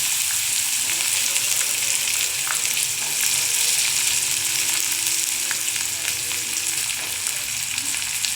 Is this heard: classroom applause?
no